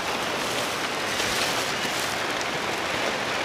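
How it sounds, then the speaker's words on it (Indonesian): Steady rain falls in a rural village, heard from beneath a raised wooden hut, a constant broadband hiss of drops on surfaces that stays even and fairly close throughout, with no voices. "Hujan tuh mas."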